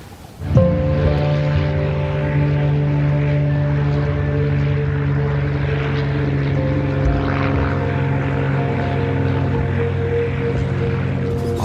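A small propeller airplane (an Aircraft) in flight, its steady engine drone with strong harmonic hum starting abruptly and holding loud and constant throughout, no talking.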